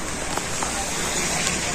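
Heavy rain pours down in Chennai during flooding, a dense, steady hiss of water hitting surfaces that fills the whole moment, close and loud.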